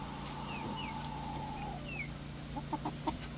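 Chickens clucking on an off-grid homestead, soft scattered clucks and short calls at a distance over a quiet background, with a cluster of sharper clucks toward the end.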